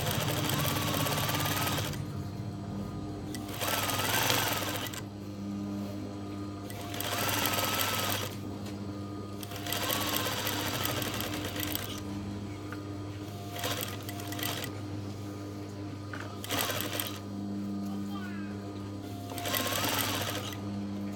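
A sewing machine stitches curtain fabric into a car floor mat, running in repeated bursts of steady mechanical whirring and clatter separated by short pauses, with a low constant hum underneath.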